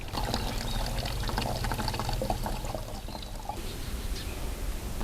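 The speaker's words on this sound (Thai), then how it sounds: "เราก็จะรินเอาส่วนที่เป็นน้ำ" Water steadily poured off soaked rice into a container, a continuous close trickling stream that runs without pause and eases slightly near the end, with no talk over it.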